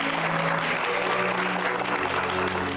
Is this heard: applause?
yes